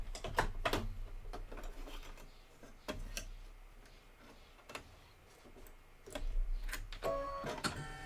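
An embroidery machine stitches out a satin outline of a bucket for a spring showers design, giving a quiet, steady run of rapid ticking needle strikes with a few louder clacks spread through.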